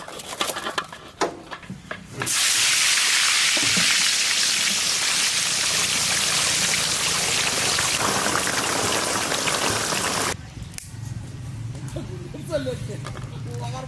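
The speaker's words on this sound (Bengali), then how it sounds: "তেল গরম হয়ে গেছে, দিয়ে দেবো বেগুন ভাজার জন্য।" Eggplant (brinjal) pieces frying in hot oil, a loud steady hiss that bursts in after a few clicks and continues for about eight seconds before dropping away, with quieter handling sounds on either side.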